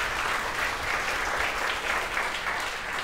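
Church congregation claps together during a sermon, a dense, steady wash of applause filling the room for about three seconds with no talk over it.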